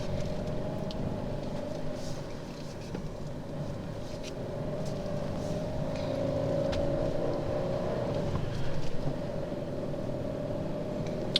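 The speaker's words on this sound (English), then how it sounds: "I'll try and capture the engine sound separately." The 0.9-litre TwinAir engine of a 2016 Fiat Panda Cross idles steadily with a low, even hum and a constant tone, continuous throughout, close to the microphone.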